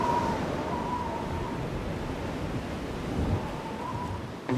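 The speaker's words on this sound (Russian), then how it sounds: "Но ветер усилился, значит, сейчас прилив будет" Strong wind in the Namib Desert roars steadily, a dense broadband rush with no pauses that swells slightly near the end.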